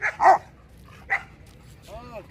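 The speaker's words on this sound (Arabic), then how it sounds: "هذا فيه النباح بلا فائده" A Rottweiler barks during a training session, with a couple of short, sharp barks near the start and another around the middle, followed by a fainter whine-like tone, against low background noise.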